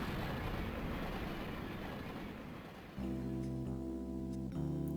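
A moving train in the Game Boy Advance game Mother 3 gives a steady, noisy rumble, then a sustained tonal hum with a faint rhythmic pulse takes over, soft and continuous.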